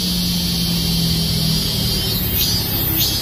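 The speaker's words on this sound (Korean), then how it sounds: "매미 소리 어때요? 매미 소리 정겹게 들리죠?" Cicadas singing along a park path on a summer morning, a dense continuous high buzzing chorus that swells and wavers toward the end over a low background rumble.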